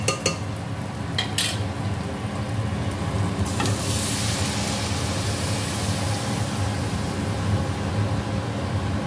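Pea dal added to fried bitter gourd in a hot pan with cumin and dried chilli, a few sharp clinks at first, then a steady, fairly loud sizzle that carries on without talk.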